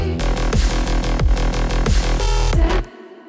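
Two synthesized bass lines from a sound design session, one a wavetable tone and one a low-pass-filtered saw wave, drive a dense, loud, rhythmic pattern with repeated punchy hits before cutting off abruptly near the end.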